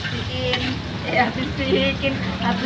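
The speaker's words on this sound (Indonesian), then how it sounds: "Ini aku lagi goreng telur yang aku kasih jamur" Egg with mushrooms frying in a pan, a steady sizzle with some stirring scrapes running under a voice.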